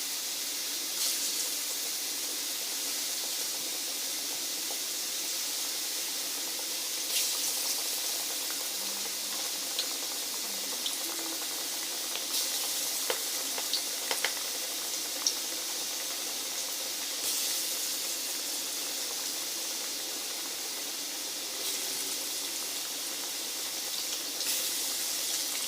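Vada for vada curry fry in hot oil in a home kitchen pan. A soft, steady sizzling hiss runs on alone for the whole stretch, fairly faint and unbroken.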